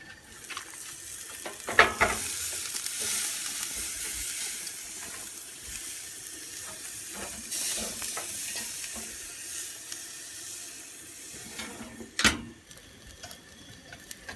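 Hash browns and sausages frying together in a pan, a steady close sizzle with soft hissing, broken by occasional scraping and stirring clatters.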